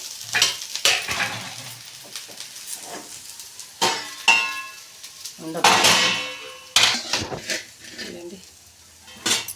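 Metal utensils scrape and clatter against a pan and plate as gobi rice is served, with sharp clinks and scooping scrapes in an irregular rhythm, close and fairly loud.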